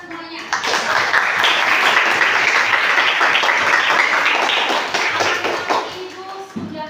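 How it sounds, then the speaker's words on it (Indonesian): Sustained applause from a classroom group, dense and steady for several seconds before tapering off, with some voices mixed in. "tepuk tangan untuk kita semuanya"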